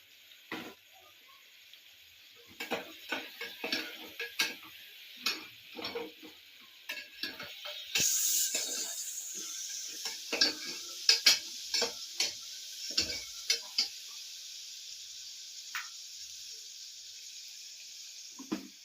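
Chopped tomatoes drop into hot oil for channa kurma, setting off a bright sizzle that rises partway through, while a spoon stirs and clicks against the pan in irregular taps nearby.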